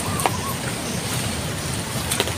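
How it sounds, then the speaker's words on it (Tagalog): Heavy rain pours down in a steady, dense hiss that fills the whole moment, close and loud, with a couple of faint drip-like ticks on top and no voices. "Malakas naman yung ulan."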